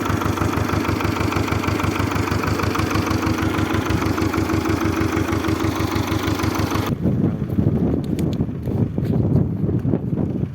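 A small tractor engine chugs steadily at close range with a throbbing rhythm, then continues more roughly with the higher noise dropping away.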